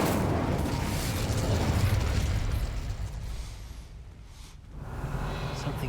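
An Incendio fire spell cast in the Hogwarts Legacy video game: a loud, sustained fiery roar with crackling bursts that surges, dips briefly, then swells again, filling the whole stretch with no talk.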